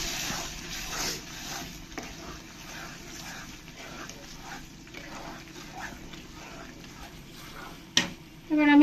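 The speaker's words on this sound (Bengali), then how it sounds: "এবার আমি ভালো করে একবার নাড়া দিয়ে দেবো, গ্রেভিটাকে ভালো করে একবার মিশিয়ে নেব।" A spoon stirs thick matar paneer gravy in a pan, giving a soft, irregular scraping and gentle sizzle at moderate level, with a sharp clatter near the end.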